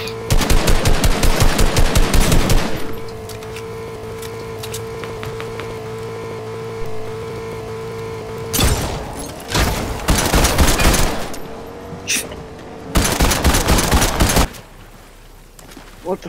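SCAR assault rifle fire in Fortnite: loud rapid automatic bursts at the start, then a quieter stretch before several more sharp volleys near the end, close and forceful.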